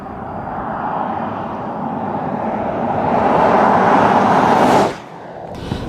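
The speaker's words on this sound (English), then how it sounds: "0 to 60. Let's see what this diesel can do, baby." A 2014 Jeep Grand Cherokee diesel with an 8-speed automatic accelerating hard in sport mode from 0 to 60 mph, a rising engine drone that swells loudly then drops abruptly as a shift lands.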